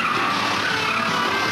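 A Chevrolet Corvette brakes hard from 60 mph, its tires skidding in one continuous loud, harsh squeal that fills the whole short moment, close and alone with no voices.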